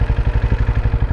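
A Benelli Imperiale 400 motorcycle engine thumps in a fast, even pulse while riding in fourth gear around mid revs, loud and close, with no voices.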